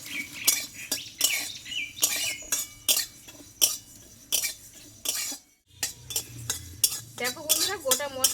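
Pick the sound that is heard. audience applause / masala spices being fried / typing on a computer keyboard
masala spices being fried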